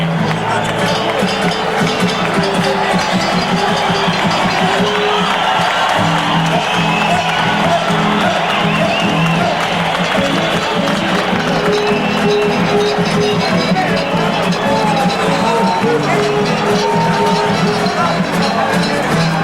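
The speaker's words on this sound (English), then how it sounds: "the crowd loves it, and I'll let you just absorb the enthusiasm and excitement here in Mexico City" Boxing crowd packed into a Mexico City arena, a dense, loud, continuous roar of cheering and babble that holds steady throughout, with a commentator talking over it.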